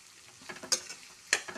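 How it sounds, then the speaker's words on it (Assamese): Garlic paste frying in a pan, a faint quiet sizzle with two sharp scrapes of a stirring spoon. "অলপ নহৰুৰ কাঁচা চেণ্টটো যোৱালৈকে এইখিনি অকণমান ভাজিব লাগিব"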